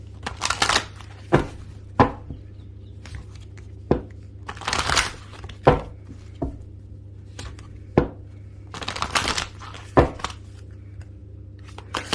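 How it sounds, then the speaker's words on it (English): Tarot cards are shuffled in short bursts of riffling and tapping, repeated at irregular intervals against a quiet background hum. "Just going to shuffle."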